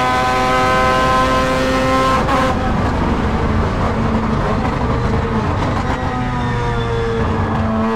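Mazda rotary-engine prototype race car lapping a circuit, its loud, dense engine howl steady and close, with sustained harmonic tones that shift pitch around the two-second mark as it changes gear or load, continuing strongly throughout.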